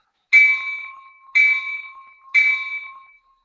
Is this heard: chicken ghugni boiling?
no